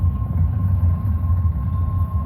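CSX intermodal freight train of empty cars rolling past at Hamilton, Ohio in falling snow, a loud continuous low rumble and rattle with a steady tone running through it, no voices.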